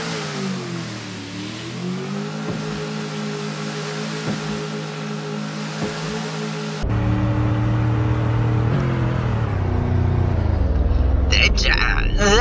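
A car engine in the Roblox game Greenville revs steadily, with a droning, boat-like hum that rises and falls. Partway through it grows louder and harsher and keeps going to the end.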